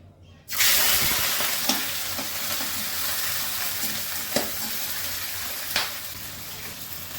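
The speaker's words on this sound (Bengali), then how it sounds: "চিংড়ি মাছগুলো আমি ভেজে নিচ্ছি।" Prawns drop into hot oil and burst into a loud, steady sizzle that holds throughout, with a few sharp spatters popping above the continuous frying hiss.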